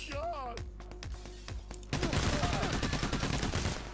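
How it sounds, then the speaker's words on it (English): In PAYDAY The Heist at the First World Bank, enemy guns fire at the players: a few sharp shots, then a dense, loud volley of rapid gunfire, with people talking over it. "Oh, they're shooting us up."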